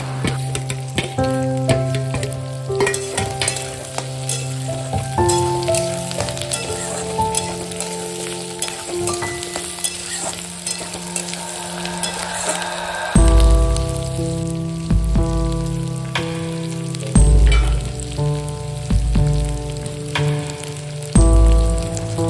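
Green chillies and capsicum fry in a pan for prawn chilli, giving a loud, steady sizzle broken by stirring scrapes and a few heavy knocks, with a sustained tonal hum running underneath.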